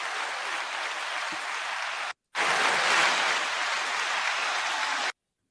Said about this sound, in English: The one and only BK, 9-second applause